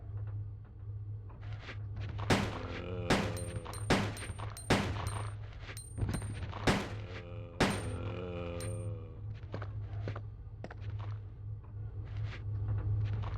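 Handgun shots from Resident Evil 2 (1998), played as Leon, ring out as sharp, separate reports at an irregular pace, each with a short metallic ring, over a steady low background hum.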